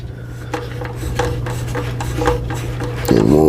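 Metal scraping and shredding plastic while a part on a 6-inch Craftsman jointer is tightened, a close grating rub in uneven strokes that ends in a brief louder grind.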